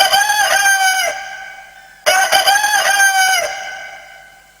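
A rooster crows twice, loud and close, each long cock-a-doodle-doo trailing off before the next begins.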